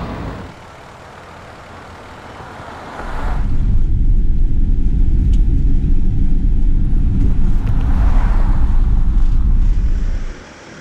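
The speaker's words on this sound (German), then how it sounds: "Und gleich der erste deutsche Stau." Stop-and-go traffic in a jam on a German road: a quiet stretch gives way to a loud, sustained vehicle rumble, heavy and close, that holds for several seconds before cutting off.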